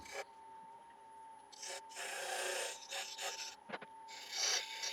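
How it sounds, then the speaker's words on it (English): Dividers scratching into a spinning ash bowl blank on a wood lathe to mark a small tenon, heard as intermittent raspy scraping bursts over a faint motor whine. "Dividers now, just marking the correct size for my tenon."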